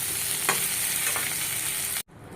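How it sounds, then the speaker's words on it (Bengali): Spices fry in a pan with a steady, close sizzle and a couple of light stirring scrapes, then the sound cuts off abruptly. "মশলাটা ভেজে নিচ্ছি।"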